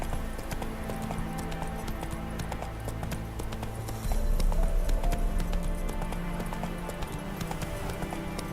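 Horse hooves clip-clop steadily in The Witcher 3 as a rider moves on horseback, with a brief louder low rumble partway through and game music and ambience underneath.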